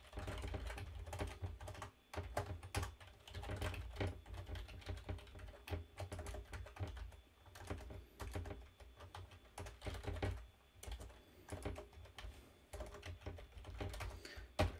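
Steady, fast typing on a computer keyboard while writing a short C program, with dense clicky keystrokes in irregular bursts close to the microphone over a low rumbling hum, no voices.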